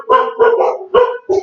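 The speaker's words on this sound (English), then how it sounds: "you have to excuse the dogs" Several dogs bark in quick bursts, about four loud, close woofs over little more than a second, with no talk over them.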